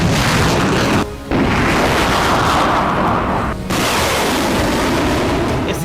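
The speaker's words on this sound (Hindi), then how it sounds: "इनमें पहला विनाशक हथियार है आर्टिलरी रॉकेट सिस्टम" An M142 HIMARS artillery rocket system fires with a sustained, loud roaring blast that briefly dips twice before continuing at full force.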